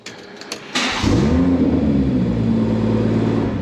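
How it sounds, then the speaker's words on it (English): A BMW 114i fires up via keyless start: a couple of soft clicks, then the starter catches and the engine flares up loudly before settling into a steady, close idle hum. "it just starts straight up."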